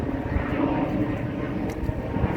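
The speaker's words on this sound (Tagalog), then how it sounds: "Daanan dito ng eroplano." A low, continuous airplane engine roar close overhead near an airport approach path in a South Korean residential area, holding steady throughout as the aircraft lands or departs.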